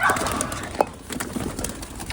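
Pigeons coo softly amid a busy outdoor background of rustling and low noise, with one brief sharp call standing out partway through.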